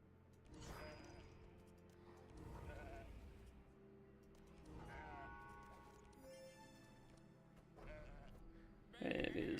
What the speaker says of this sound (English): It is just the sheep.